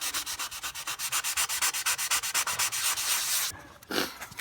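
Steady back-and-forth hand sanding of a rust repair with a flexible sanding pad, rhythmic rasping strokes close up, ending with a brief scuffing pause and a few final rubs.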